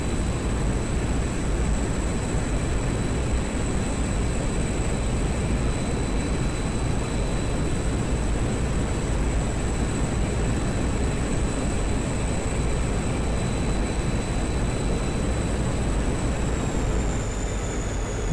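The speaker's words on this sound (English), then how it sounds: "Let's get some afterburner." A MiG-21 jet engine on afterburner in the DCS flight simulator makes a loud, continuous roar that stays steady throughout, heard from inside the cockpit with a faint high whine above it and no voices.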